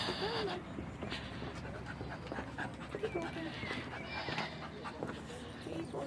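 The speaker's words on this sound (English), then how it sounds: "There's 2 dogs." A dog pants and whimpers at a jetty before boarding a boat to Inchcailloch Island on Loch Lomond, Scotland, with quick breathy pants and faint whines close by while people talk nearby.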